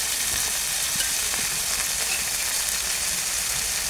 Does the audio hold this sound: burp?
no